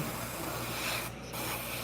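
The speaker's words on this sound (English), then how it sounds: "So basically we are just spraying the whole thing black right now." Black spray paint hisses steadily from an aerosol can onto a large fishing bait, a close continuous spray with one brief pause.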